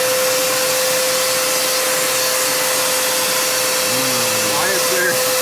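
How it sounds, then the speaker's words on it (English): A vacuum cleaner drones loudly and steadily with a high whine while cleaning inside an abandoned Nissan S13 240, and a voice speaks briefly under the roar near the end. "I should vacuum out that too first"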